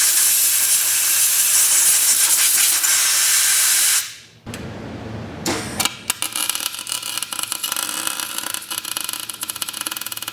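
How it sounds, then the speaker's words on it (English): Welding on the differential of a Volvo 940 drift car to lock it: a loud, close, steady crackling hiss for about four seconds, a short pause, then another sputtering burst with sharp pops and irregular crackle, with no talking. "Beth has now finished welding that up in there"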